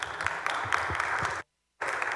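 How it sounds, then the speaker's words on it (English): Applause from members and guests in the Texas Senate chamber welcoming visitors from Montague County: a dense, steady patter of many hands filling the room, cutting off abruptly and then resuming after a short silence. "Please give them a round of applause with me."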